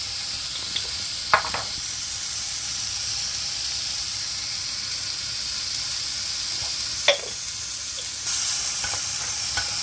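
Half a large onion fries in a little table oil in a tagine, giving a steady soft sizzle throughout with a few brief utensil clinks and stirring taps; no one speaks.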